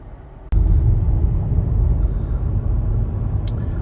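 Car driving along a road past dealership lots in Texas, a steady low engine and road rumble that swells after a brief thump and continues evenly throughout.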